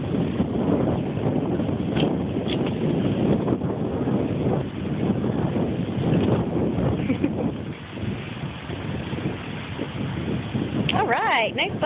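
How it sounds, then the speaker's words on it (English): Strong wind blows outdoors, roaring steadily into the microphone as buffeting rumble for the whole stretch, with people talking faintly underneath. "It is really windy today."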